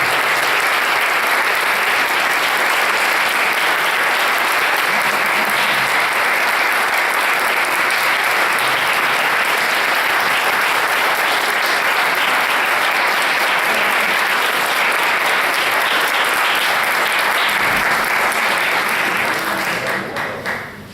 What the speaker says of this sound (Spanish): Vamos a saludar entonces a los expositores, al doctor Alberto Güeres, con un fuerte aplauso.